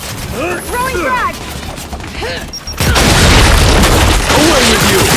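A frag grenade detonates in Gears 5 combat, a sudden loud broadband blast that abruptly takes over from chattering voices and leaves a dense, sustained roar of debris and battle noise.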